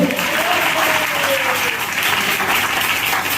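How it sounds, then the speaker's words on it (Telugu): A church congregation at a Sunday service claps loudly and steadily, a dense wash of applause filling the room, with a faint voice underneath. "ఆమేన్. గట్టిగా చప్పట్లు కొట్టాలి."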